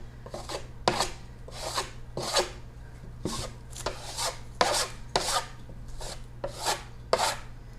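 Portola roman clay textured paint is spread and wiped across a wall in random patches, giving a series of soft rhythmic scraping strokes, fairly quiet and close, with no talking.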